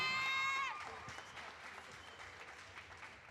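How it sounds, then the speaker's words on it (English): Audience applause breaks out for the winner of a powerlifting meet, a steady wash of clapping from a crowd that follows a fading tone and holds at an even level throughout. "So big round of applause for Nikita."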